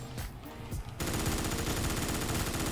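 Automatic gunfire from a gun in a video game boss fight starts after a second of quieter game sound and runs as a loud, continuous rapid stream of shots to the end.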